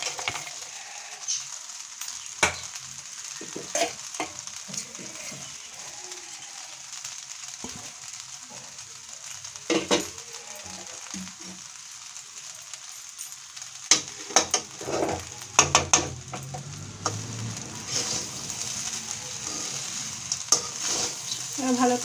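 A spoon stirs nuts frying in a pan for village-style mango rice, a steady sizzle broken by scattered scraping and clinking of the utensil against the pan, close and without talk.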